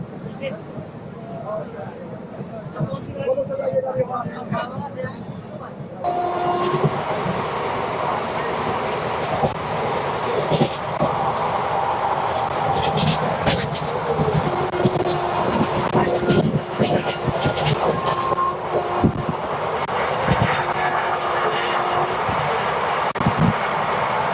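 The 12327 Upasana Express from Asansol to Haridwar runs along. Inside a sleeper class coach, a continuous rumble and rattle carries light rhythmic clacking, and passengers' voices talk over it.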